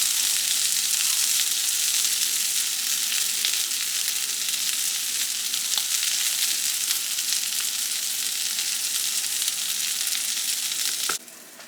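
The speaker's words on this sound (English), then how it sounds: "So we're just gonna let these sausages cook up a little bit" Sausages frying in a pan, a steady close broadband sizzle with faint pops running throughout, then dropping abruptly near the end.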